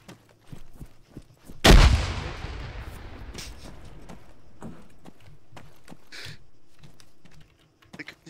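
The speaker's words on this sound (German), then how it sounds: "Eine Granate." A grenade explodes in a shooter video game, one sharp loud blast that decays over a couple of seconds, surrounded by light clicking and small scattered noises.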